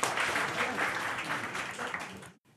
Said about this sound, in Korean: 청년 창업 단체 성과 공유회를 여러분의 힘찬 박수와 함께 시작하겠습니다.